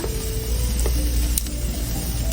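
Onions sautéing in a pan for a chicken and broccoli stir-fry, giving a steady, close sizzle with a few brief clicks and scrapes.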